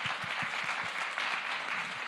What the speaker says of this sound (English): big thanks and a round of applause for Bea and the team